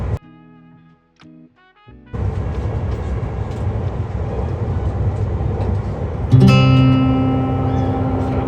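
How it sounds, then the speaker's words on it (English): A train approaching Tokyo in Japan rumbles steadily at close range, a loud continuous rolling noise preceded by brief tonal chimes, with a sustained horn-like tone rising near the end. "As the train approached Tokyo"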